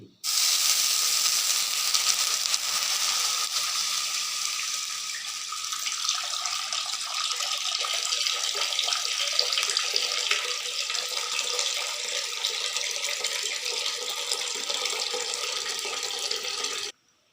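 Water pours into a cooking pan (kadhai) to start tulsi rice, a steady, loud hissing gush that runs nearly unbroken for about seventeen seconds with no talk.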